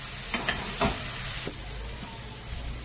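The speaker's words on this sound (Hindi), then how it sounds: "उसको अच्छे से भून लेंगे।" Finely chopped onions sizzle in hot oil in a pan, a soft steady frying hiss broken by a few sharp stirring scrapes.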